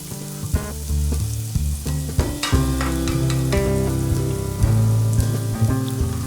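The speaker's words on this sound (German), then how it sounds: "Dann kommt der Reis hinzu und wird kurz mit angeröstet." Rice being toasted briefly in a pan for a porcini risotto, sizzling and crackling steadily and close up, with occasional stirring clatter and no voices.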